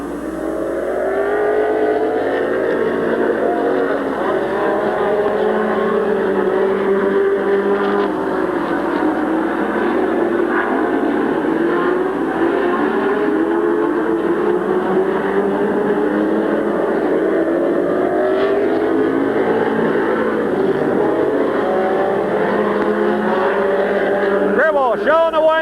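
Race cars running at Midvale Speedway, a steady, loud engine drone that holds throughout, heard under continuous race commentary.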